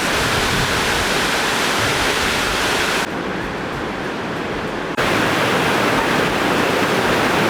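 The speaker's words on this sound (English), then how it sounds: "the waterfall is just impressive" Loud, steady roar of a waterfall at Plitvice Lakes National Park in Croatia, a dense rushing wash of falling water that fills the scene throughout and softens briefly in the middle.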